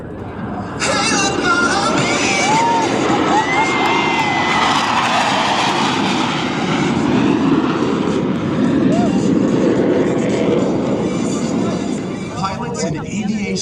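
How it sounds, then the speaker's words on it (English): Blue Angels jets fly the Diamond Aileron Roll at the Cleveland National Airshow, a loud, sustained jet roar rising quickly and holding for about twelve seconds before easing, with crowd babble and an announcer's voice beneath. "All 4 pilots will simultaneously roll their aircraft 360 degrees as they perform the Diamond Aileron roll."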